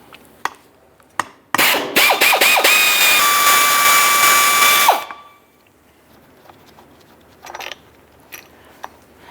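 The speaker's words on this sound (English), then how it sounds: "Let's loosen those bolts and get those out." A 13mm socket on a power tool whirs loudly for a few seconds while loosening thermostat housing bolts on a 2004-2009 Dodge Durango engine, framed by a few sharp taps and then quiet clinks.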